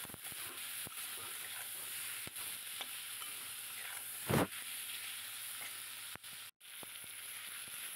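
Puti fish curry base seasoned with salt and turmeric frying in a pan, a quiet, even sizzle throughout with occasional soft stirring clicks and one brief louder scrape near the middle.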